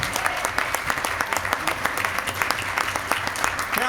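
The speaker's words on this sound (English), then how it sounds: "if we can give a round of applause for our 12 winners" An audience at a mayor and city council meeting applauds winners, a dense steady round of clapping from many hands throughout, close and loud with no talk over it.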